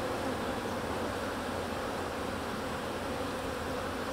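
Honey bees hum in a dense, continuous swarm buzz close by as a nuc hive is installed and its frames drawn out, steady and unbroken with no voices.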